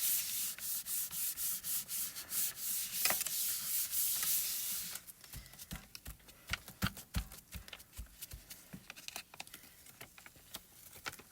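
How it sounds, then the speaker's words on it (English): Copy paper is rubbed over a gel press print made with alcohol inks. A steady close scratching rub is followed by quieter, irregular patting and rubbing strokes. "I'm going to take that copy paper and just rub that"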